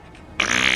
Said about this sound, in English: That fart cemented the whole experience.